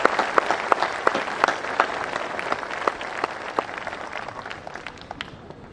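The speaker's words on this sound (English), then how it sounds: "Please join me in giving them a round of applause." A graduation audience applauds parents in a hall, with distinct claps ringing out over a steady patter that gradually thins and fades toward the end.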